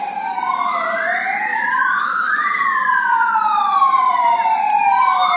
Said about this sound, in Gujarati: દેરાસરમાં જ્યારે આવી કંઈ ઘટના ઘટે રાતના તો જોરદાર સાયરન વાગે